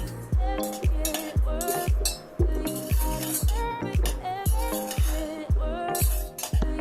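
Jaggery powder being mixed into cooked broken wheat porridge in a metal pot, with a spoon striking the pot in a regular rhythm of about two knocks per second, each with a ringing metallic clink, close up.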